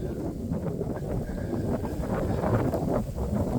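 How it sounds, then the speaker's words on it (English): Wind blows straight into the microphone, a constant low roaring rumble with uneven gusts, loud and close, no speech heard. "Wow, that's windy."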